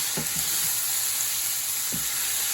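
Chopped onions sizzle steadily in oil in a pan, a close, constant frying hiss broken by a few soft scrapes of a spoon stirring them.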